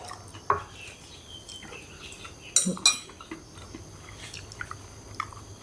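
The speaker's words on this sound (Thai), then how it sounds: "แม่ก็ยังพอเคี้ยวได้มันกรอบ" Someone chews crispy fried bamboo shoots dressed in a sour-sweet spicy salad sauce, with a few sharp crunches and clinks of cutlery against a dish between quieter chewing, close and without talk.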